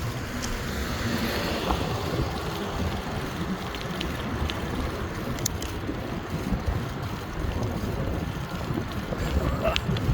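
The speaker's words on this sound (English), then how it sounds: "against the wind. And it's a cold wind." Cold wind of about ten miles an hour buffets the microphone while riding over a bridge, a continuous low rumbling roar throughout with no clear voices.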